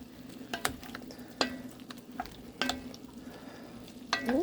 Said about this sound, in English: When my beef is browning